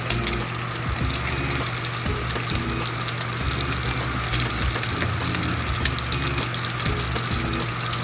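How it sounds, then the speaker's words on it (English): Pork ribs fry in their own rendered fat, giving a dense, continuous sizzle that stays loud and even throughout. Faint bubbling and spitting run underneath, with no voices. "our pork ribs is already sweating out with its own fat or oil"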